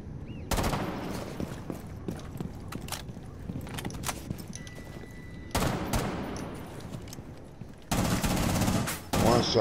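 Loud bursts of automatic gunfire crackle in a ranked shooter video game, with several sustained volleys separated by brief gaps and quieter shots and footsteps between.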